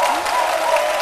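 Audience applause for a school group at a televised midday show, a dense steady wash of clapping throughout, loud and close, with no talk over it.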